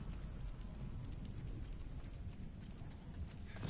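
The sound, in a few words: horse galloping in Diablo 4 video game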